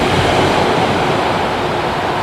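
Ocean waves wash steadily onto the sand at Misquamicut Beach, Rhode Island, a loud continuous roar of surf with wind noise and no voices.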